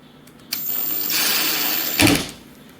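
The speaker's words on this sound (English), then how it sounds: "we're going to grab screw and screw it in" A screw is driven into a door latch while a door knob is installed: a sharp click, then a steady whirring drive lasting about a second and a half that ends in a louder grinding burst before it stops.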